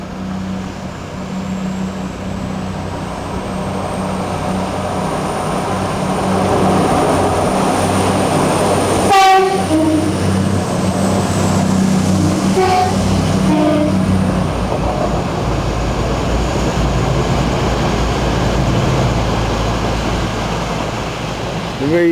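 A train rumbles through Wellingborough station, growing louder as it passes, with a sharp horn blast partway through and another fainter toot later.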